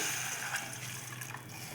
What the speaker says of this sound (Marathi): पाणी आपण घेऊयात टाकून।